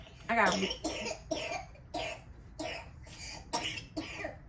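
A sick young girl coughs repeatedly in a run of about eight short, harsh bursts, steady and close, with a breathy, raspy start.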